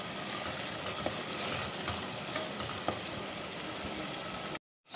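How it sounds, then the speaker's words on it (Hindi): Urad dal frying in a pan with green chili and ginger, a steady soft sizzle with light stirring scrapes, no voices, ending in a brief silence. "इसमें बस थोड़ी सी हरी मिर्च है और अदरक है, इसको डाल के अच्छी तरीके से भूनेंगे।"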